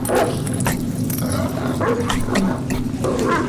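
Dogs barking in a haunted-house game scene, a dense run of yaps and woofs over a loud, steady rumbling background, with no clear gaps between calls.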